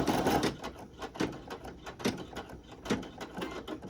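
A Brother PE800 embroidery machine stitching an applique shirt design, its needle driving in a steady rapid mechanical chatter with rhythmic clunks, close and alone with no voices.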